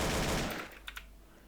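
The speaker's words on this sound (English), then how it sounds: "Switch to the Beretta." Beretta pistol gunfire in a Roblox video game: a rapid burst of shots, then two sharp, separate shots that quickly fade.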